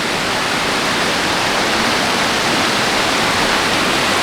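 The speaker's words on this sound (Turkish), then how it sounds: "şelale arkamda görüyorsunuz. Yaklaşık 12-13 metreden dökülüyor." A waterfall pouring from about 12–13 metres, its loud, dense roar steady and unbroken from start to finish, with no voices over it.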